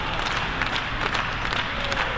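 Wrestling crowd at a Future Pro Wrestling holiday show, a dense steady wash of cheering and clapping filling the hall, loud and continuous with no clear breaks.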